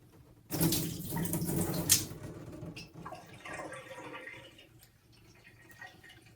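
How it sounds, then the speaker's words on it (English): Water gushes steadily as a whole house water filter housing contaminated with dirt and debris from city water is rinsed in a tub, loud at first, then a softer, splashier flow. "So much dirt, so much debris, and I have city water, so go ahead and give this a good rinse."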